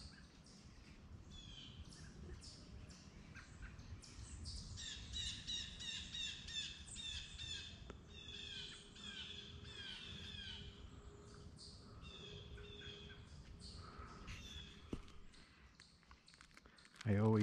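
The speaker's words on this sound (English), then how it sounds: "I can't believe how active the woods are with birds and squirrels and chipmunks." Birds chirp and squawk busily in Adirondack woods, layered calls overlapping throughout, with a person talking quietly underneath.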